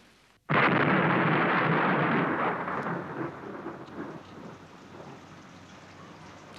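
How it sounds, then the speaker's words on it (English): A sudden loud thunderclap breaks out over heavy rain, then the rumble slowly fades while the downpour keeps hissing steadily. "The storm."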